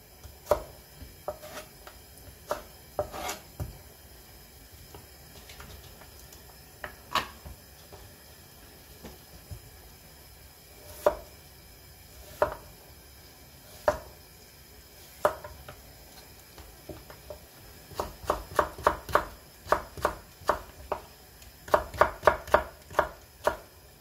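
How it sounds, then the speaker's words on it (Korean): Knife chopping cucumber on a cutting board for a bean sprout and cucumber side dish: sharp close taps, sparse at first, then a rapid run of quick even chops near the end. "두께가 좀 두껍다 한 것은 이렇게 중간 정도 이렇게 썰어 주셔요"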